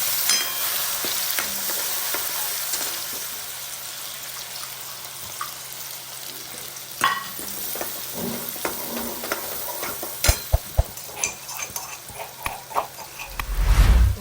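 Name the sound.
chopped onion frying in oil with asafoetida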